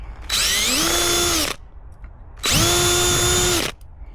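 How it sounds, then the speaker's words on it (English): A power drill runs in two steady, close bursts of about a second each while drilling mounting holes through the plastic case of a Tesla Wall Charger, with a quiet gap between them. "And it's plastic, so it drills out pretty quick."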